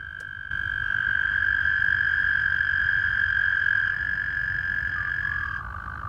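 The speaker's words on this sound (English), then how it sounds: "Toads trill to each other." Toads trill in a long, steady, high sustained buzz that carries on without a break and shifts pitch slightly near the end, with a low background rumble and no voices.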